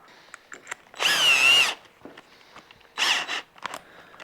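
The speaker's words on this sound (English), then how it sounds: "Want my drill." A power drill whirs in two short bursts, the first longer, with small clicks and rustles of handling between them, while working on a 1977 Johnson 9.9hp Seahorse outboard motor.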